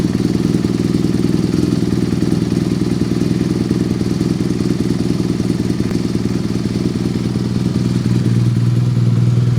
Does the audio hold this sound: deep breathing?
no